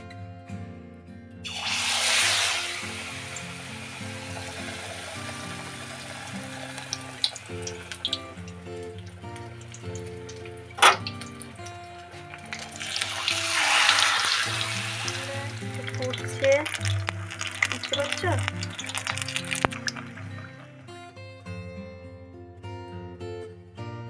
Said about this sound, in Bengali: আর এই যে তেল গরম হতে দিয়েছি এই গরম তেলে ছাড়বো